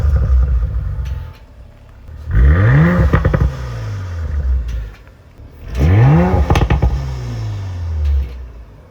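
Audi B9 RS5 with an 034 Stage 1 tune revving at start, two sharp revs climbing and falling a few seconds apart, each followed by crackles and pops as the engine settles back to idle.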